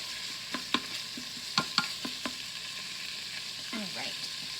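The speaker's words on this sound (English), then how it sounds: "Break up some of the bacon" Bacon fries in a non-stick Instant Pot insert while being broken up with a rubber utensil, a soft sizzle underneath a few sharp scraping taps and stirring knocks, close and fairly quiet.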